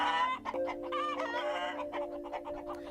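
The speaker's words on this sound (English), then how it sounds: "hens clucking and pecking at corn scattered on the ground" Hens cluck and cackle close by, several birds calling over one another in short, overlapping bursts as they peck at corn scattered on the ground.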